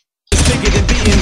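Rapid video game gunfire bursts in after a brief silence, a loud, dense fusillade of shots that continues without a break to the end.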